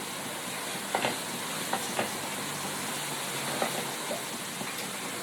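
Chopped green chillies frying in butter for butter chicken, giving a steady, even sizzle throughout with a few soft clicks of stirring or spatters on top.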